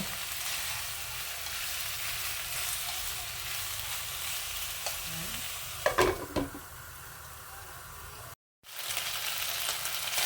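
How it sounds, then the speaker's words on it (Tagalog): Pork belly sautéing in a pan while its fat renders out, giving a steady close sizzle and fry hiss throughout, with a few brief clatters of stirring midway and a momentary dropout near the end. "igisa lang natin hanggang lalabas yung mantika niya"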